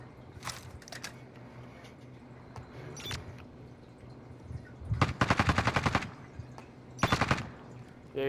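Shots aimed at the player in a battle royale game: scattered single cracks, then two rapid automatic bursts nearby, over a low background with little talk.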